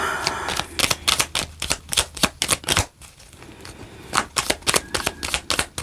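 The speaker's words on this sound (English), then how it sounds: "So let's go ahead and pull an alchemy card and then an angel card." Tarot and oracle cards being shuffled by hand, a quick run of crisp riffling flutters close up, pausing briefly midway before resuming, with no talking.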